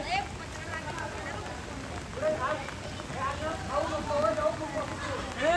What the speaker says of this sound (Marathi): पाऊस जायची वाट बघतोय तर अजून जोरात येतोय पाऊस. नुसतंच जोरात चालू आहे.